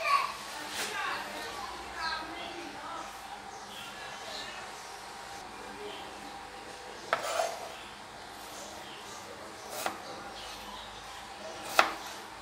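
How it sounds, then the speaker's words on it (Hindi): Onion being cut and finely chopped with a knife, heard as a few sparse, sharp knife strikes against a board, set apart by pauses under ongoing talk with some children's voices in the background. "ऐसे प्याज को बीच में से कट लगा लें और आसानी से फिर बारीक जो है चॉप कट जाएगा आपसे"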